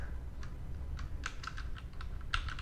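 Quiet, irregular keystrokes on a computer keyboard while Rust code is being typed, with clusters of clicks over a low background hum.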